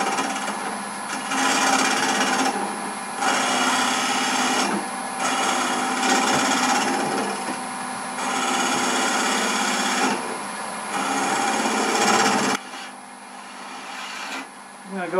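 A wood lathe spins a footed wooden box while a tool takes small cuts at the nub on its bottom, giving a steady whirring, rasping scrape in repeated passes with short pauses between them.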